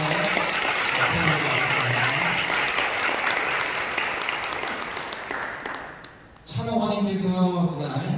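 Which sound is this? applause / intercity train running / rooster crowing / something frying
applause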